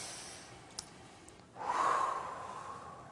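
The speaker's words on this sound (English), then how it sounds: "Take a deep breath." A single slow, deep inhalation drawn in quietly during a guided tapping meditation, rising after a short silence and tapering off gently, soft and close with no talking.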